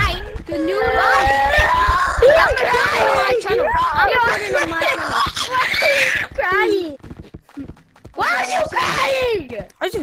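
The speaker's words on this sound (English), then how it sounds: "Okay, this kid is screaming way too loud." A child screams loudly and shrilly over voice chat in Gorilla Tag, long wavering shrieks mixed with crying and babble, breaking off briefly before resuming.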